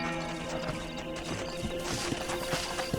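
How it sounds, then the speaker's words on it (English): A horse in Red Dead Redemption galloping with steady clip-clop hoofbeats, under game music and ambience, with a brief whinny blended in. "Ahora voy a llamar al caballo para que lo..."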